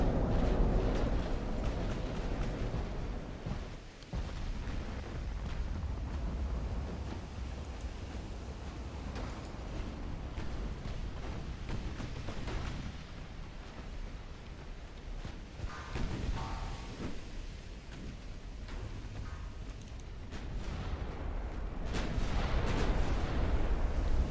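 Heavy battleship guns boom across a naval battle in the game Ultimate Admiral: Dreadnoughts, with deep rolling blasts and explosions rumbling one after another over a continuous low roar of wind and sea, fairly distant and subdued.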